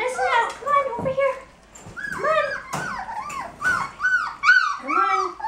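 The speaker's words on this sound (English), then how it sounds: "Puppies are eating a meal, and you can see they're really excited." Young puppies, about three to four weeks old, whimper and yip excitedly over a meal: a steady run of high, wavering whines and squeaks from several pups close to the microphone.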